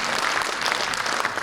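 An audience applauds loudly and steadily at a political constituency report meeting, a dense wash of clapping with no break.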